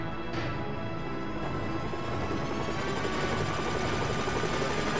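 A transport helicopter in the video game Front Mission 3 whirs steadily, its continuous rotor and engine drone filling the scene at moderate level with no talk.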